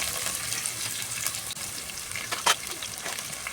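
Onions and two dried red chillies frying in oil in a pan for beetroot rice, a steady close crackling sizzle with a brief louder burst of spitting near the end.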